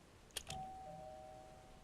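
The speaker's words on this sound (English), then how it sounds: "Ding dong." A doorbell rings in the video game Obduction, sounding a quick two-note ding-dong followed by a lingering tone that fades slowly against a quiet background.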